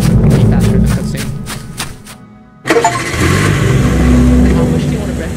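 A car engine starts and revs up loudly, pulling away in the horror game Welcome To Kowloon, after a brief lull, with a voice talking over the first part.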